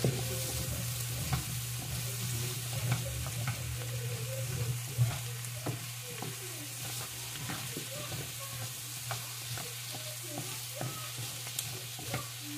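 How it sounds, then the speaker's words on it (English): Softened apples being stirred in a hot pan for sweet potato soup: a continuous gentle sizzle broken by repeated close scrapes and taps of a spoon, with no one speaking. "Stir it around a bit."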